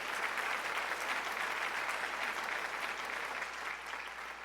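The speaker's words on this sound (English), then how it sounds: "You really deserve a huge, huge round of applause, dear." Sustained applause from an audience at a Bharatanatyam arangetram dance recital, a steady, dense wash of clapping that holds at an even level throughout and eases slightly near the end.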